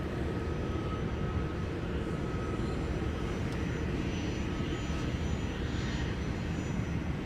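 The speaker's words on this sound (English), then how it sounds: "our arrival that just touched down from Los Angeles with the Airbus" An Airbus A321 airliner arriving at Minneapolis airport after landing gives a steady, fairly faint jet-engine rumble and hiss, heard from a distance without talk.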